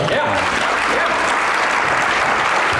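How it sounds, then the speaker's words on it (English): Loud, sustained round of applause from a seminar audience honoring a speaker at a real estate masterclass, a thick wash of many hands clapping at once, close and unbroken for the whole stretch. "We gotta give one big, very big round of applause."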